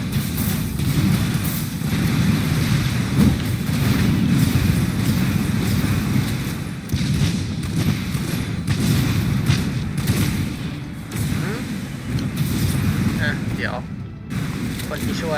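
Explosions and rapid weapon fire in the Hardcore Mecha video game, with a continuous dense barrage of booms and crackling blasts running the whole time at steady high loudness.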